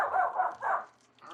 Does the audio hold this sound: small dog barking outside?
yes